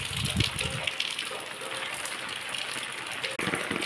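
Steady rain hissing with a dense patter, as if drumming on an umbrella overhead, loud and continuous for a few seconds.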